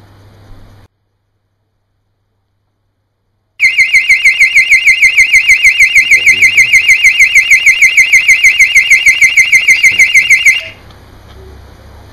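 A 12-volt solar-powered PIR burglar alarm for a caravan or boat blares a loud, rapidly pulsing electronic siren for about seven seconds after a stretch of silence, then cuts off abruptly.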